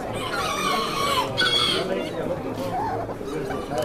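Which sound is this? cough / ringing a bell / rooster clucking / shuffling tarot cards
rooster clucking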